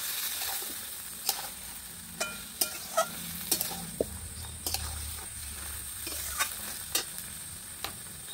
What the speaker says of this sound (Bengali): সামান্য একটু জল দিয়ে ভালো করে নাড়াচাড়া করে নেব